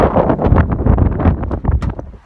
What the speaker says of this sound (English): It is extremely windy out here right now.